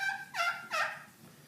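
A bare slate turkey call struck with a cedar striker, used without its resonator, gives three short yelping calls, close and moderately loud, with no voices.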